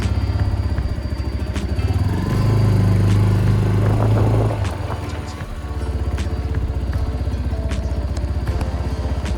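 A Buccaneer 125 motorcycle runs on a straight-line test, its engine swelling louder for a few seconds mid-run before easing back to a steady drone with light mechanical clatter.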